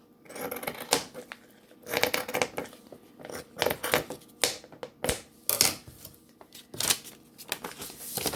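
Scissors snip through quilt fabric while a 6-inch log cabin quilt block is sewn, giving a run of sharp, close clicks and cuts in irregular bursts with no talk.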